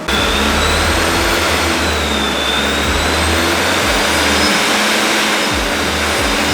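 A procharged Ford Mustang engine roaring loudly and steadily on a Mustang dyno, with a high supercharger whine running over the sustained engine drone.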